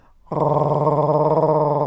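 A person growls low in the back of the throat to imitate a dog, producing a steady, rattling, close-up growl that starts abruptly after a brief silence and holds without a break.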